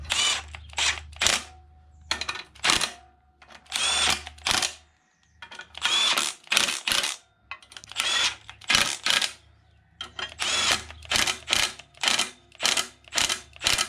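Power wrench torquing bolts on a rebuilt 16v turbo engine, firing in short sharp bursts of rattling impacts, repeated about a dozen times in an irregular rhythm with brief pauses, close and fairly loud.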